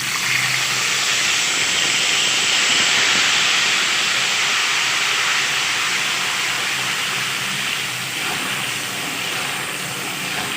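Tomato paste hits hot oil with cumin seeds for a restaurant-style dal mash, filling the space with a dense, even sizzling hiss that holds steady and close throughout.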